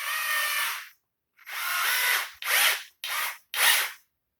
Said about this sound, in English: Here I'm trying to put a screw just up to the wood here.